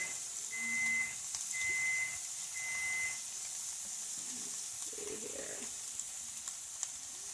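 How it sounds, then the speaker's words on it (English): Three steady electronic beeps ring out in a row, clear and moderately loud over a faint background hiss and light kitchen clatter. "My oven was beeping. I got it up to temperature."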